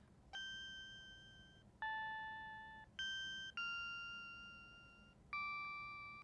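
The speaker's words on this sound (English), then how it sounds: "has more of a waveform synthy sort of sound. Sounds very percussive, almost like a bell." Percussive bell-like synth notes from a video game music track ring out in a slow melody, five struck tones that each decay quickly, clean and fairly quiet against a faint background hum.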